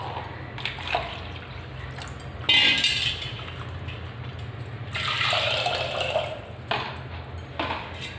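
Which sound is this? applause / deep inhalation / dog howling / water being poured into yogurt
water being poured into yogurt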